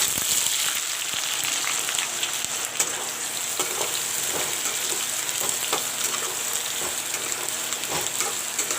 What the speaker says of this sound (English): Let the onions fry.